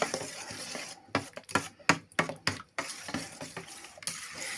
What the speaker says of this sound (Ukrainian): Все це добре розмішуємо.